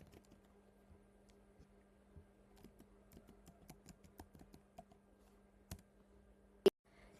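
Username and password typed on a computer keyboard for a Django admin login: quiet, irregular keystrokes close by, ending in one sharp louder key press like Enter, over a faint steady hum.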